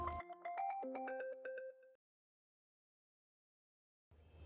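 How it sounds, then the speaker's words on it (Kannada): A phone rings for an incoming call with a bright, quick melodic ringtone of stepped tones lasting about two seconds. A quiet gap follows, then another sound cuts in briefly at the end. "ಯಾವುದೋ ಅನ್ನೋನ್ ನಂಬರಿಂದ ಕಾಲ್ ಬರ್ತಾ ಇದೆ"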